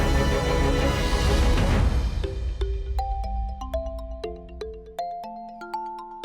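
A melodic phone ringtone plays alone, bright repeating notes stepping up and down after a brief noisy burst at the start.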